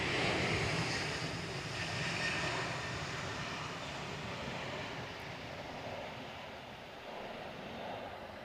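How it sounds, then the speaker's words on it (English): Airliner jet engines at Manchester Airport rumble steadily past close by, a broad continuous roar that swells and eases slightly over several seconds, heard alone with no talk. "The spool ups are amazing. Lots of rumble, which I hope you can hear as they go past the camera here."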